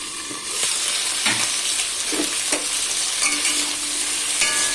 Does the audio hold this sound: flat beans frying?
yes